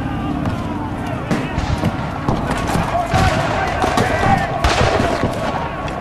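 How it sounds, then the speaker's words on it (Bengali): Gunshots ring out in bursts of sharp cracks with echoing tails, chaotic and fairly loud, mixed with a voice speaking over the clamor in a dramatized audiobook scene. "গুলির শব্দ প্রতিধ্বনিত হচ্ছে"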